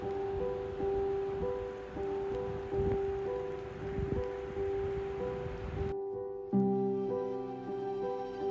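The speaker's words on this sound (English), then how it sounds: "That is a rainstorm arriving." A rainstorm arrives in Positano, Italy, as a steady broadband hiss of rain layered over a sustained tonal hum, cutting off abruptly partway through.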